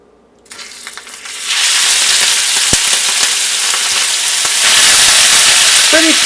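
Marinated beef hits hot oil with a sudden loud, close sizzle that builds to a steady spitting crackle and keeps going, with a small clink near the end.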